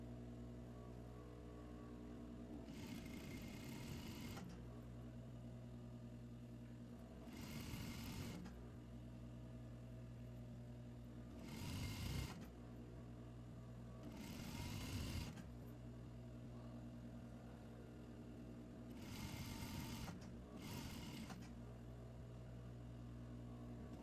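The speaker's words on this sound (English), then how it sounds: "Now move to the regular sewing machine." A regular sewing machine stitches an elastic casing on a skirt waistband in several short bursts, a rapid whirring rattle starting and stopping over a constant low electrical hum.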